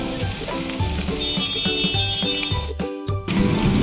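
Tomato paste poured into ginger and chili paste frying in a pan over medium-low flame, giving a steady crackling sizzle that briefly cuts out and then returns louder, close by.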